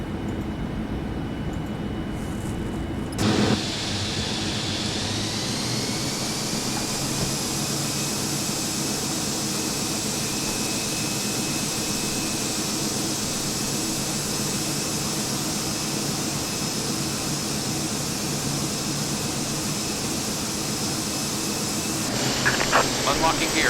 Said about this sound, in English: So we have a good start of 2 engines.